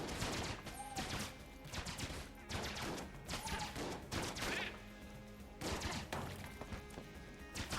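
A weak gun in Enter the Gungeon fires loud, separate shots in irregular bursts over a few seconds, with sharp impacts and game effects mixed in and no talking.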